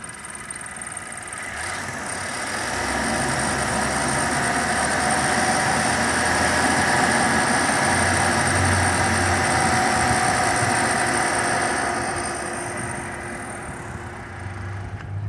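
The engine of a 2016 Ford Fusion runs steadily during a fuel injection cleaning, given a little gas so the hum swells for several seconds before settling back to idle, close and continuous with no talk.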